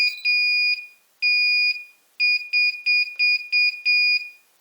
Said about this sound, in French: le buzzer s'active